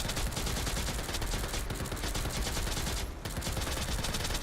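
Sustained gunfire in the shooter Girls Frontline 2: Exilium, a dense rapid rattle of shots running continuously and loudly, with a brief dip near the end before firing resumes.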